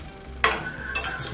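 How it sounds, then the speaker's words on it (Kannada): Sugar syrup for an instant sweet and sour lemon pickle is stirred in a pan, with a sudden scrape followed by a brief bubbling sizzle and a second stirring sweep, close and short. "ಒಂದೆರಡು ಕುದಿ ಕುದಿಸ್ಕೊಳ್ಳೋಣ ನೋಡಿ."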